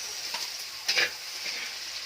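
Garlic fries in cooking oil for a Christmas spaghetti sauce, giving an even close sizzle with a brief louder crackle and spatter partway through.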